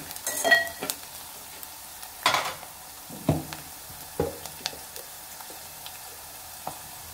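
Onions cook in a pan for tomato dal curry, mostly quiet with a faint sizzle, punctuated by several distinct spatula scrapes and knocks spaced a second or so apart.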